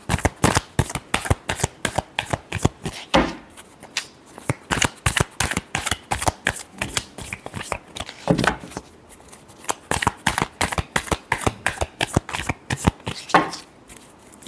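A deck of cards is shuffled repeatedly in fast, crisp riffling bursts with short pauses between rounds, close and clear with no talk.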